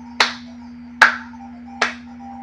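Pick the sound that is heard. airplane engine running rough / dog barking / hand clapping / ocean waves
hand clapping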